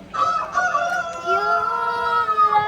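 A rooster crows once, a long clear call held over a couple of seconds, near and loud, with faint background music underneath.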